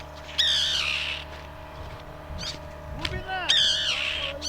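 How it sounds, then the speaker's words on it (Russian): Gulls calling along the Vyatka river in Orlov, several harsh, rising cries in short bursts near the start and again toward the end, with a low steady hum and faint background voices underneath. "И местные орловские чайки."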